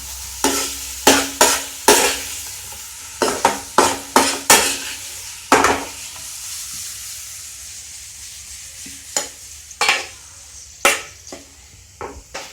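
Paneer stir-fried in a pan for biryani: a run of sharp utensil scrapes and taps against the pan over a light sizzle, pausing midway before more scattered strokes.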